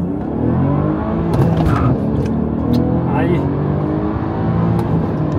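A Nissan 350Z or BMW M240i accelerates hard in a 0-100 run, engine droning loud and continuous under cabin rumble, with a person speaking briefly over it.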